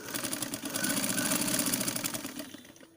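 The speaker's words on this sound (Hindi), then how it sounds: "एक सिलाई लगाएंगे इस पट्टी के साथ में।" A sewing machine stitches a piping strip onto a designer blouse sleeve, running at a fast, even rhythm for about three seconds before slowing and fading out. No one speaks.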